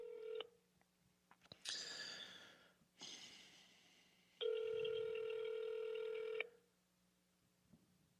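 A phone on speakerphone dials out, with short touch-tone beeps, breathy handling noise, then a long steady electronic ringback tone that sounds once loudly before stopping, no talking.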